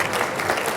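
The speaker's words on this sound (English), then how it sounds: "Give yourself some applause." Applause from an audience at a sustainability summit lunch plenary, a dense steady wash of many hands clapping at close range, continuous and without pauses.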